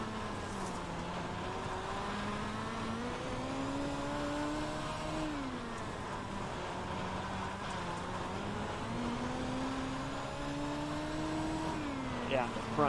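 A race car engine in a racing video game drones steadily, its pitch rising through the gears and dropping at each shift, loud and continuous throughout.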